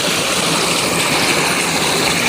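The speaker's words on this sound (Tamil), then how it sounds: "வாய்க்கால் அழகா தண்ணி போயிட்டு இருக்குல்ல" Water rushes steadily along an irrigation canal in Erode, a continuous close, loud stream-like flow with no talk.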